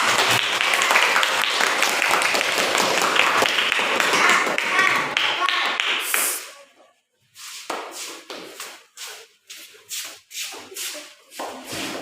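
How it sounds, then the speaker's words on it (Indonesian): Children in a classroom break into loud, sustained applause, the clapping dense and close for several seconds, then trailing into scattered, separate claps and taps. "Tepuk tangan."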